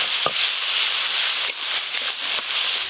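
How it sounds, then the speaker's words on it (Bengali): Grated onion hisses and sizzles in oil left over from frying fish, a loud close steady crackle, with a few sharp knocks of a utensil against the pan. "ওই মাছ ভাজার তেলে গ্রেট করে রাখা পেঁয়াজ পুরোটাই দিয়ে দেব"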